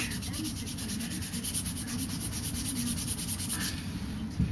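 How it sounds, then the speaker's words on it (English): Linseed oil being rubbed by hand onto a finished wooden Mora knife handle with a burr wood grain, giving a steady close scuffing rub that continues unbroken and fairly soft, with no talking. "Once you've got your final finish on your wood, you put this linseed on, or whatever treatment you like."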